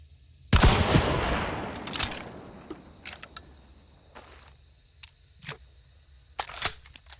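A Romero 77 shotgun in Hunt: Showdown fires one loud, booming blast that decays slowly, followed by a string of short mechanical clicks and clacks as the gun cycles and reloads.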